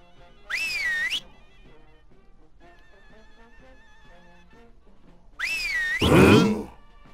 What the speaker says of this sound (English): Now purse those lips and whistle.